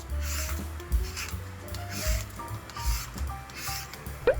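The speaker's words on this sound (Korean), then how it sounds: "기니까 일단 바로 조금 잘라놓고 껍질을 벗길게요" An old yellow cucumber (nogak) is peeled, giving repeated close rasping scrapes in short strokes, one after another, with no talk.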